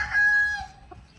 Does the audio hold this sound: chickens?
yes